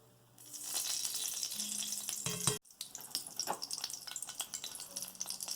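Pork lard sizzling in a pan while gravy is made for a pork loin roast: a steady hiss and crackle with faint clinks and stirring sounds, and a brief pause partway through.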